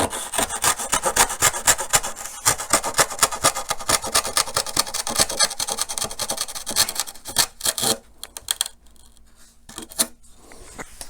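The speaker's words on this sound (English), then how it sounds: "I'm going to take this edge and just cut this excess off" A hand saw cuts excess off a wooden edge in a long run of fast, loud, steady rasping strokes, slowing and stopping near the end, with no talking.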